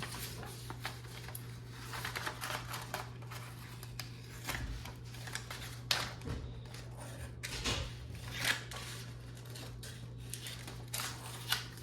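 Scissors cut out a paper game console, making a quiet string of small snips and crinkles over a steady low hum, with no talking.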